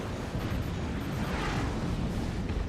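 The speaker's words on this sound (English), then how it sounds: "These missile launches." Missile launches in a strategy video game sound as a rough, roaring rumble of overlapping booms and whooshes, a dense, sustained burst of fire at moderate loudness with no voices.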